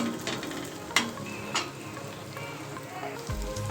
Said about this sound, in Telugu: ఇప్పుడు తాలింపు అంతా వేగిపోయిందండి.